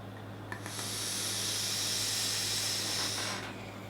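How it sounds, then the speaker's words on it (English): A long airy draw through a Gear RDA dripping atomizer fired at 52 watts with a dual microcoil of 0.35 ohms, a soft steady hiss lasting about three seconds with a faint sizzle, close and quiet with no voices. "Let's take a vape before I give you my thoughts."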